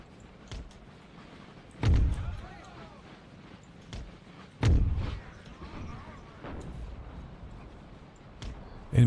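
Artillery fire from 3-pounder guns in the video game Empire: Total War: three heavy booming shots spaced a few seconds apart, each with a short rumbling tail, over faint battlefield ambience.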